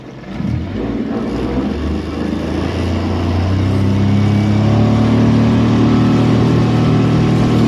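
A Suzuki 40 outboard pushes a Ranieri Voyager 19S boat on a lake, its engine revving up loud and close into a rising, sustained drone.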